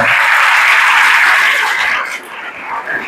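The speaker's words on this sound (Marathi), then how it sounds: "एकदा जोरदार तुम्ही तुमच्यासाठी टाळ्या वाजवा" A hall of school students claps loudly together in a dense burst of applause that fades and thins out after about two seconds.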